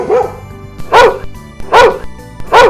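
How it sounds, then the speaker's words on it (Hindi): A dog named Raja barks loudly near a house: four sharp, close barks spaced evenly apart, each preceded by a softer yip. "राजा अचानक जोर से भौंकने लगता है।"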